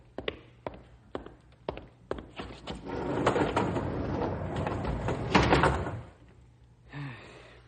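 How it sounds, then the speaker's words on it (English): Doors bang shut in an old-time radio drama sound effect: a run of sharp knocks and slams, then a long rattling roll as a door slides closed, ending in a final thud, with no voices heard. "Close the doors, Rube."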